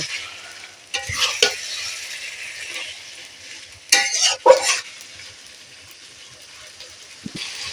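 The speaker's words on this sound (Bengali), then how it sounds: "যতক্ষণ না ভালো করে কষা হচ্ছে ততক্ষণ আমি কিন্তু কষতে থাকবো মাংস" Goat meat sizzles steadily in a pan with a little oil while a spatula scrapes and stirs it in two brief bursts, metal clinking against the pan over the constant frying hiss.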